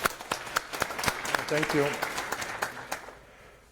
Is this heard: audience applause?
yes